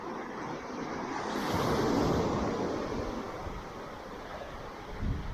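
Gentle surf at Kewarra Beach rolls in as a steady broadband wash, swelling a little midway, with light wind buffeting the microphone and no voices.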